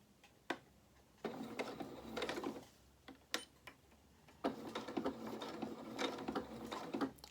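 Domestic sewing machine stitching fabric for a small head wrap, running in short bursts forward and back with mechanical ticking and whirring, with quiet pauses between runs.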